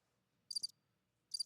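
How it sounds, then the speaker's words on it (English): Two short bursts of crickets chirping, each a quick pulsed trill separated by near silence, fairly quiet and distant. "So, is that crickets chirping?"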